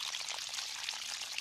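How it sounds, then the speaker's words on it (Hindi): Cartoon water sound effect of pouring onto plants: a soft, steady hissing stream running continuously for a moment before cutting off, faint and alone. "शिनचैन पौधों में पानी डाल रहा है"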